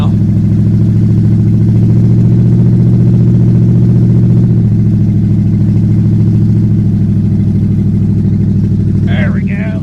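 A 1974 Plymouth Cuda with a cammed 360 V8 and a four-speed idles loudly and up close after a cold start, giving a steady, deep, lumpy rumble for the whole stretch.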